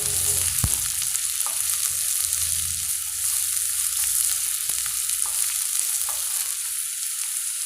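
Onions sautéing in a pan after mustard seeds have popped, with a continuous soft frying sizzle and occasional light stirring clicks and scrapes, no talking.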